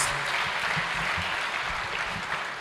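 Delegates at an Africa Day lecture honouring Thabo Mbeki applaud in a steady, dense wash of clapping that fills the hall evenly from start to finish, with a faint voice murmuring underneath.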